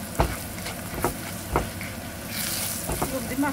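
Onions and spices fry in a pan with a steady sizzle, broken by several distinct scraping stirs of a spatula against the pan, close and fairly loud with no one talking.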